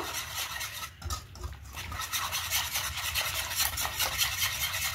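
A hand whisk works through pitha batter in a bowl, a steady continuous scraping and stirring rasp kept up close and loud throughout with no talking.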